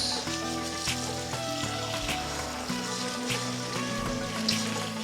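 Steady rushing of hot water from a kitchen tap, continuous and close, with faint clinks and a low hum in the background.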